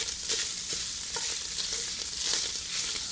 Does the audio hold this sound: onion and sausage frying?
yes